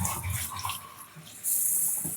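Water running from a tap in a trailer: a soft rushing stream that swells suddenly louder partway through as the flow opens up, close by with no talking.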